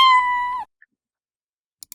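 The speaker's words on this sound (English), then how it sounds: "our cat sound will also start" A single short, clear cat meow plays as a sound effect in a Scratch coding project, followed by silence and a couple of faint clicks.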